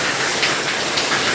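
Heavy rain pours down in a dense, continuous hiss, loud and steady, with no voices over it.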